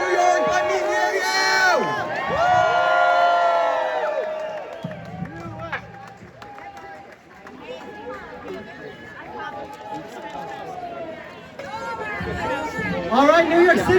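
A crowd at a New York City rally outside Gracie Mansion cheers, chatters and calls out, a broad swelling roar that rises and falls beneath a loud amplified voice addressing them.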